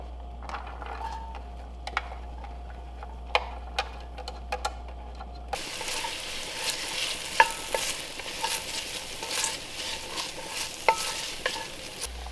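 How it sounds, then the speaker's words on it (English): Onions and celery sautéing in garlic in a pan, a soft continuous sizzle broken by sharp clicks and scrapes of stirring, fairly quiet with a louder, fuller stretch in the second half. "Now I'm just gonna saute my onions and celery in some garlic"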